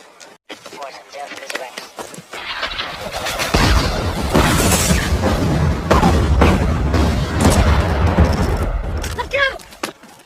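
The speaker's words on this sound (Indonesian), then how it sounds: "meminta serangan artileri ditembakkan sesuai" Artillery from a war film shells a Japanese bunker with sustained rumbling blasts and crackling bursts that build into a dense, loud barrage, while a narrator speaks over it.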